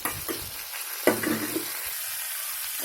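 Washed potato pieces dropped into a pan of spiced fish heads, for a Bengali fish-head vegetable dish: close sizzling frying with a sharp burst as the pieces go in, then steady hiss and brief stirring.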